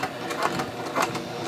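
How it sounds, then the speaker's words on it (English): A sewing machine stitches along a seam of a pair of jeans being tapered, a steady close mechanical whir with a soft pulsing rhythm, with no voices. "And then we're just going to stitch along"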